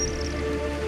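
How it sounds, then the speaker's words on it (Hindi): Heavy rain pours steadily onto a street samosa cart, a dense continuous patter of drops with a low rumbling wash underneath and no voices. "अचानक तेज बारिश शुरू हो जाती है। बारिश की बूंदें ठेले पर रखे समोसों पर गिरने लगती हैं।"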